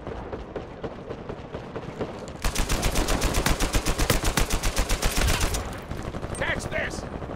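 Sustained automatic gunfire in an Uncharted 4 multiplayer match rattles in a loud, dense burst of rapid shots after a quieter stretch of scattered game noise.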